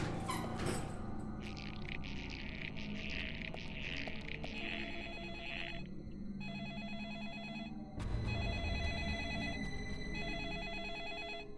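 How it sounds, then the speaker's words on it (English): A telephone rings in the Deadly Premonition game, repeated bursts of bright electronic ringing in a regular on-off pattern over a low ambient backdrop, with no one speaking. "A phone call? For me?"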